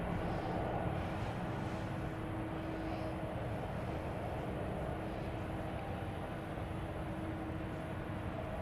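Alaska Airlines airliner landing at San Francisco, a steady broadband engine roar with a low tonal hum holding level throughout, moderately loud and continuous with no voices.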